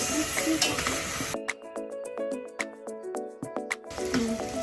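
Rice is stirred in a pot while making Filipino lugaw (chicken rice congee), with scraping strokes and soft sizzling, close and fairly quiet, and brief talk nearby.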